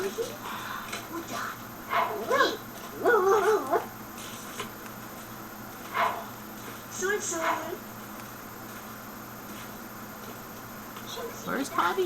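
A puppy in The Sims 2 video game gives several short yips, barks and whimpers in scattered bursts, close and moderately loud, over a steady low background hum.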